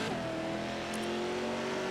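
Race car engine from a racing video game with Pro 2 Lites trucks at Phoenix, a steady loud drone that shifts pitch as the car works through a turn, with a faint tire squeal and no talk.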